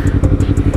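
A Yamaha R3 V1 motorcycle engine runs loud and close with a steady, rapid pulsing throb and no voices over it.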